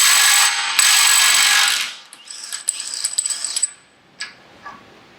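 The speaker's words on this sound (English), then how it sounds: "this 1/2-inch gun that's about the size of most 3/8 guns did take that 36mm axle nut off" A compact 1/2-inch impact gun hammers loose a 36mm axle nut on a 2018 Honda Civic Si: one loud, sustained burst of about two seconds, then scattered metallic rattles and clicks that fade away, with no talk.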